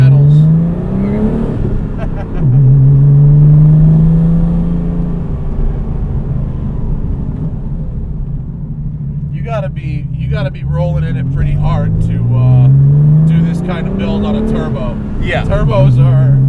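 A 600 hp Porsche 964 Turbo engine revs up repeatedly, rising in pitch through several accelerations with a deep rumble, close and loud, while people talk over it at times.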